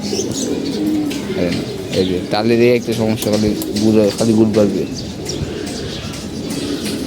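Loud, close pigeon cooing in a loft, several rhythmic coos in the middle, with someone talking over and around them.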